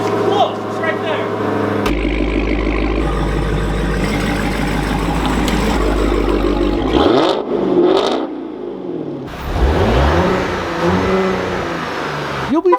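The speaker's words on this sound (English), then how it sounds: "we're gonna have to jump start her again" After a jump start, a car engine runs loud and close at a low rumble, then revs up and down in several rising and falling sweeps. Someone talks over it.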